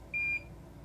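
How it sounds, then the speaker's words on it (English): A soldering iron, heated up for replacing batteries in a Pokémon toy, gives a single short, steady electronic beep, clear but fairly quiet over low room noise. "Now we have to wait for it to beep"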